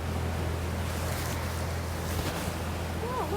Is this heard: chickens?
no